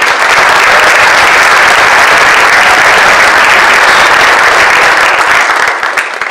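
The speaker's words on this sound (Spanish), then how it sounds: "Vamos a dar un aplauso de bendición" A church congregation at a Spanish-language Good Friday service in Minnesota bursts into loud, sustained applause that fills the room before tapering slightly at the end.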